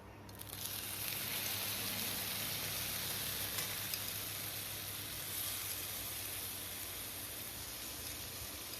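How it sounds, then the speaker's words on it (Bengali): Masoor lentils sizzle steadily in a little hot oil with turmeric and salt, a dense continuous frying hiss that starts abruptly and stays loud and close throughout. "ডালটা ভালো করে তেলে ভেজে নেব হলুদ লবণ দিয়ে"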